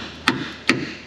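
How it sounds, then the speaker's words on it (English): Two sharp metallic strikes, evenly spaced about 0.4 s apart, as a hammer drives a socket onto a heavily rusted strut bolt on a Honda, each hit ringing briefly in a quiet garage. "Hammer the socket on"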